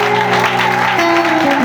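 During a French-language worship service, the assembly applauds and cheers loudly over sustained music, the clapping blending into a steady roar with held tones underneath.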